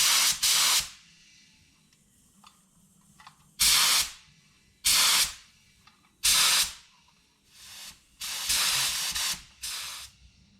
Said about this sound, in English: Well, it sprays stuff and it's not leaking excessively other than my air hose